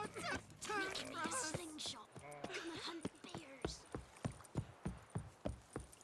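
Horse hooves clip-clopping in the video game The Witcher 3, a steady rhythmic trot of distinct hoofbeats that emerges after game dialogue and music at the start.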